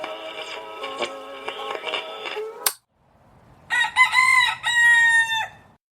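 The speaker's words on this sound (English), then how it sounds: "Sometimes it's just roosters crowing at all hours of the day and night" A wild rooster on Kauai, Hawaii crows in two long, loud bursts separated by a brief silence, with a fainter low rumble of background ambience between them.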